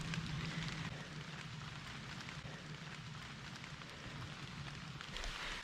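Steady rain falls outside a hiking tunnel at Clifty Falls State Park, a continuous hiss of drops filling the whole stretch at an even, moderate level with no talk.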